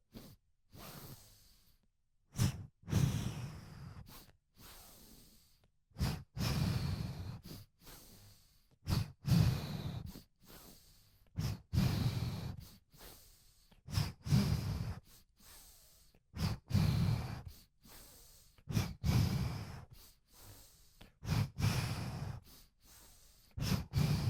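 Rhythmic kriya breathing in a yoga practice, with repeated forceful exhales out through the mouth alternating with inhales, close and steady across the whole stretch, with no talk.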